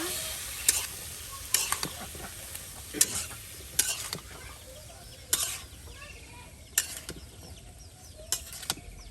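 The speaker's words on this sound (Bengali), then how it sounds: "আপনার লতা তার সাথে আলুগুলো মশলার সাথে একদম কষিয়ে মজে নেওয়া হচ্ছে" Taro stems and potatoes being sautéed with spices in a pan, giving a continuous sizzle broken by sharp, repeated scrapes and knocks of a spoon against the pan every second or so.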